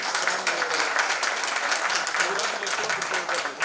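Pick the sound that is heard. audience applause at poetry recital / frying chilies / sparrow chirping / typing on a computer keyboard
audience applause at poetry recital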